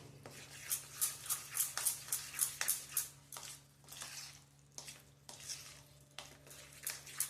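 A spoon stirs green garlic, chili and ginger chutney in a bowl, soft rhythmic scraping strokes repeating steadily at close range, with a faint steady hum underneath.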